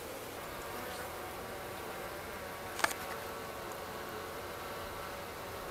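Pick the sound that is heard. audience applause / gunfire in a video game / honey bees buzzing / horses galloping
honey bees buzzing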